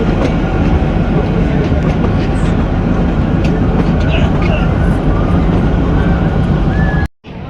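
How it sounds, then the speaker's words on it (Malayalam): The Kalka–Shimla toy train rumbles steadily along the tracks toward a halt with a loud continuous roar and faint rattling, cutting off abruptly near the end. "ട്രെയിനിൻ്റെ ആദ്യത്തെ ഹാൾട്ടിലേക്ക് ട്രെയിൻ എത്തിക്കൊണ്ടിരിക്കുകയാണ്."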